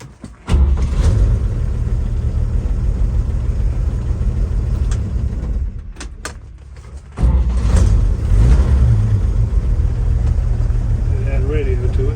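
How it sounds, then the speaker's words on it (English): The original six-cylinder engine of a 1954 Chevrolet truck, started with a floor-mounted starter button, turns over and runs with a loud steady low rumble close by. There is a brief dip mid-way before it surges again. "Show you how easy it cranks."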